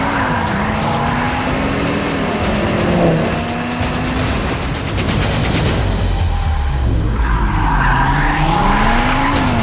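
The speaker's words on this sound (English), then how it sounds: "And that unique 5-cylinder sound will forever be synonymous with Audi." An Audi RS3 with its five-cylinder engine, over 390 horsepower, revs hard on a race track, loud and close with rising and falling pitch sweeps through gear changes, tyre squeal and crackling exhaust pops, and no talking.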